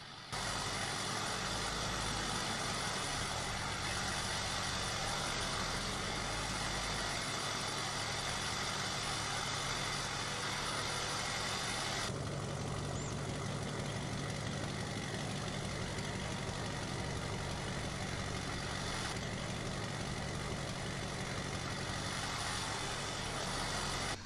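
Wheeled loader and truck diesel engines idle and rumble steadily while gravel is loaded in Farming Simulator 22, a continuous heavy low drone with a shift in tone about halfway through and no talking.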